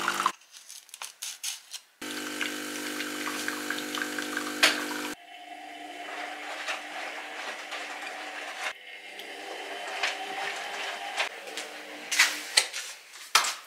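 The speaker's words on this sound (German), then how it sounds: "erstmal Wasser durchlaufen durch die Kaffeemaschine" A home coffee machine flushes stale water through its pipes, starting with a steady pumping drone, then gurgling and hissing irregularly with clicks and small splashes, heard close up.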